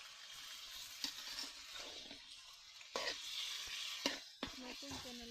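Beans and potatoes hit a pan of winter vegetable curry with spring onions, giving a steady close sizzle with a few sharp stirring knocks and clatters along the way.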